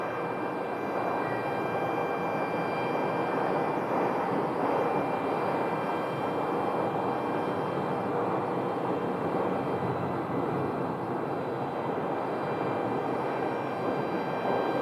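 An airliner arriving from Nashville lands at Phoenix Sky Harbor, heard as a steady, distant jet roar with a faint engine whine that holds evenly, without voices.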